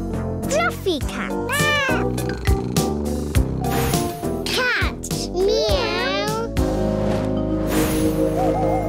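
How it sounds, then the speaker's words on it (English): A cat meows loudly several times in drawn-out wavering calls, close to the listener. Bright children's music and a voice play along with it. "Cat. Meow."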